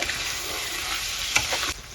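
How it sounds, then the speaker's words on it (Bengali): Chicken pieces sautéing in a pan with hot oil, a continuous close sizzle broken by scraping stirring strokes and a sharp clank near the end, with no talking. "মাংসগুলো দিয়ে দিচ্ছি ভালো করে আবার কষিয়ে নেব"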